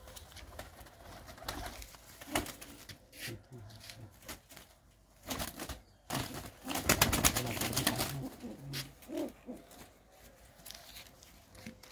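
Pigeons kept in a loft coo in soft, low repeated calls amid wing flutters and shuffling, fairly near, with a person talking quietly in the background.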